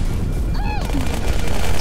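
Gunfire from the video game Halo 2, a dense burst of weapon shots under continuous game noise lasting the whole short stretch, with a brief whining tone partway through.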